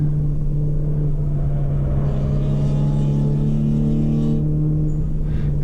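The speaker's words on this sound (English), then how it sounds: "Guy in his Nissan zoom away." A Nissan race car pulls away during a time attack warm-up session at Mid-Ohio: a loud, continuous engine rumble that holds fairly steady throughout.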